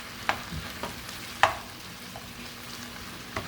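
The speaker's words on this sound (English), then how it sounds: "So all you do is mix it up really good and make sure you're frying" Italian-style beans fry in oil in a pan, a soft continuous sizzle broken by a few sharp clicks and scrapes of stirring.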